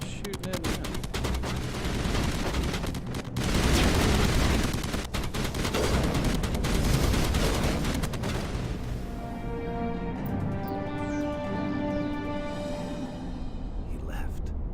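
Dense video game gunfire and rapid bursts crackle loudly through the first half, then give way to music and game sounds, with voices speaking at times over the action.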